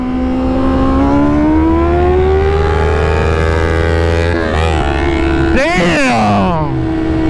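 A vehicle engine revving hard while accelerating in second gear, a loud rising drone that climbs steadily, then shifts with a burst of rough noise and falling pitch near the end.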